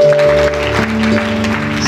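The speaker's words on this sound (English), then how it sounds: "Clap it for Jesus." A church congregation claps over sustained musical tones in a brief, loud stretch of applause. The clapping runs continuously while the music holds underneath.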